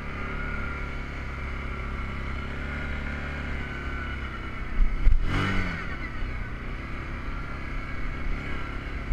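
A Yamaha Grizzly 700 ATV drives through snow in two-wheel drive, its engine a steady close drone that surges briefly midway with a sharp rev before settling back.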